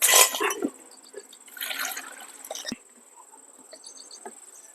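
Dry fish being washed by hand in water, the third rinse in a village kitchen: splashing and sloshing bursts, loudest at the start and again midway, then quieter drips and small splashes, with faint insect chirps in the background.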